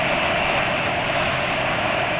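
A motorbike engine running on Meditran SX Bio oil after about 1,900 km, a steady close drone with an even, slightly rough mechanical hum and no speech.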